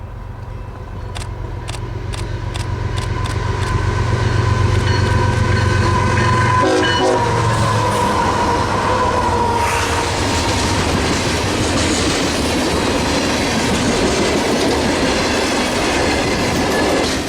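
Freight train 547, running as CSX B638 with mostly Valero-owned cars, approaches with a series of horn blasts, then rumbles loudly past at close range in Schaumburg in January, its wheels clattering rhythmically over the rails.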